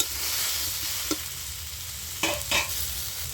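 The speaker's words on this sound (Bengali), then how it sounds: "তো ঢাকনাটা আমি এবারে খুলে সবজিগুলো নেড়ে চেড়ে" Chopped spinach stalks and other vegetables frying in a pan for a Bengali chorchori, with a steady low sizzle and a few brief stirring scrapes near the middle and end.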